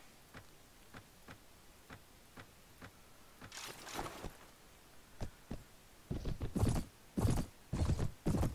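Horse hooves clopping in a Mount & Blade medieval battle game, sharp clip-clop beats at an irregular gallop, growing louder and denser toward the end with brief snorting bursts.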